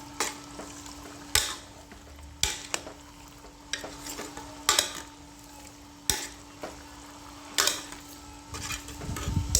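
Chicken being stirred and sautéed in a pressure cooker, with a spoon scraping and knocking against the metal pot in irregular bursts over a low steady sizzle and a faint hum.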